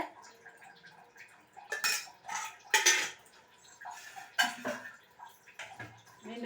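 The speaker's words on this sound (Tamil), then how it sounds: "இப்போது ஒரு சின்ன பேன் வச்சுட்டு தாளிச்சிடலாம் பேன் சூடு இருந்ததும் தேவைக்கேற்ப எண்ணெய் போட்டுக்கோங்க" A small pan set down on the stove and oil poured in while tempering for an okra masiyal, giving several clattering metal knocks and clinks with a faint liquid trickle, close and clear with no talking.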